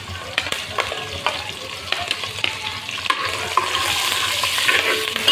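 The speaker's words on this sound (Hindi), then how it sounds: "इसको भी हम बस हल्का सा फ्राई करेंगे।" Green chillies frying in a pan with garlic and ginger for chicken Manchurian, a close, steady sizzle with repeated stirring scrapes and taps that grows louder toward the end.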